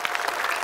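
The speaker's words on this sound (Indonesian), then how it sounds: "tepuk tangan untuk kita semua" A brief burst of studio audience applause on an Indonesian television comedy show, dense steady clapping at close range.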